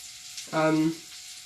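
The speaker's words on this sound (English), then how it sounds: "It's sizzling away now." A short burst of chicken sizzling in a frying pan, with a brief tonal hum over a faint background hiss.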